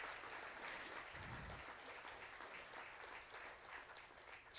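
An audience applauding at a community gala, a soft, steady wash of many hands clapping heard from a distance, faint and continuous throughout.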